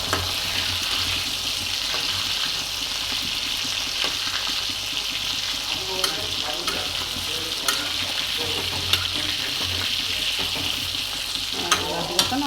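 Fish fries in hot oil in a pan for a curry, a loud, constant sizzling hiss close by, dotted with occasional sharp pops and light stirring clinks.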